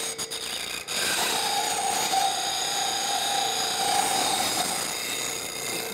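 Bench grinder wheel running while a detail spindle gouge is sharpened against the rest, a steady high whine with a continuous grinding rasp of steel on the wheel, close and loud throughout after a brief clatter at the start.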